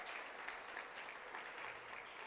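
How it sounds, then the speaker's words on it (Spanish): Steady applause from a church congregation during a Friday devotional service, a dense, continuous wash of clapping that fills the whole stretch at even strength. "Buen aplauso al Señor con todo nuestro corazón."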